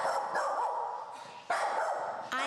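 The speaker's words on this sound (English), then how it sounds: "please tell me the dog doesn't bark like that on us" A dog barks and yips in short repeated bursts with wavering whimpering howl-like cries between them, close and fairly loud, with no talk.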